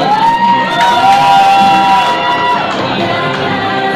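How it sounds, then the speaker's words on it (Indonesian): An audience at a Kartini costume contest cheers and shouts for participant number 11, who is dressed in a Betawi concept, in a loud continuous crowd roar with whoops. "tepuk tangan Bapak Ibu untuk peserta nomor 11 dengan konsep Betawi dari STO"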